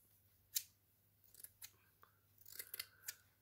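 Scissors snipping straw for an Easter basket, a few quiet, sharp cuts spaced irregularly, faint and close with no talk.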